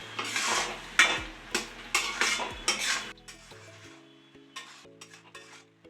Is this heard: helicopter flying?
no